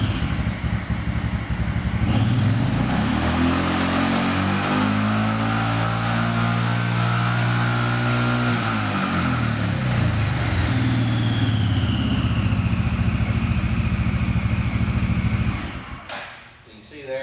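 A 2013 Arctic Cat Wolverine 500 starts up and settles into a loud, steady mid-pitched idle close by, the engine note briefly rising and falling before cutting off at the end.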